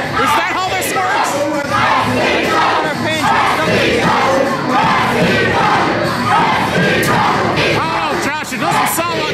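Wrestling show crowd chanting and cheering loudly at a live indie event, rhythmic massed voices with yells and whoops rising in waves throughout, close and sustained.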